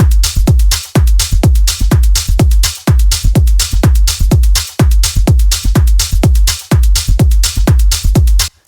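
Layered techno-leaning underground house percussion groove with a thumping kick on every beat and crisp hats and claps stacked on top, loud and steady with short regular pauses between bars.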